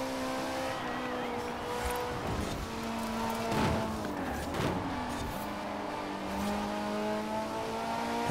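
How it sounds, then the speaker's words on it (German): A BMW V10 engine in the Forza Horizon racing game revs and accelerates, a loud whining engine note climbing and dropping through several surges with gear changes, heard alone. "Ein schöner BMW-Sound hier."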